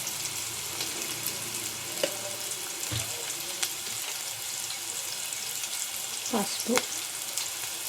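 Onion, green chilli and curry leaves fry in hot oil with a steady, dense sizzle. A few stirring scrapes break through the frying, and one brief spoken word is heard.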